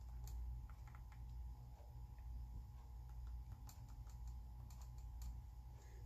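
Keys on a computer keyboard are typed in a quiet room, producing faint, scattered clicks at an irregular pace over a low background hum.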